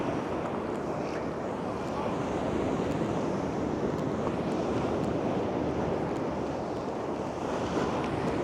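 Stormy autumn sea at Fontanka near Odesa, with surf crashing and rolling continuously against the shore, mixed with steady wind buffeting the microphone.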